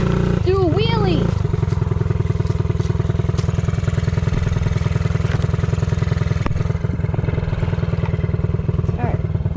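A small mini bike engine chugs loudly and rapidly up close with a raspy, pulsing exhaust note, while a rider shouts over it at the start.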